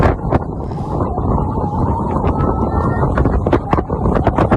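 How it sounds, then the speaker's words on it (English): Strong wind buffets the microphone aboard a boat out in the Gulf, a loud continuous roaring rush with gusty bursts and rumble, no voices over it. "Man, that's windy."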